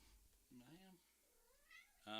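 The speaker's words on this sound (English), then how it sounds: "Maya, the kitty right here" House cat meowing at close range, a couple of short rising and falling meows with a brief gap, then a louder cry starting at the end, over faint room noise.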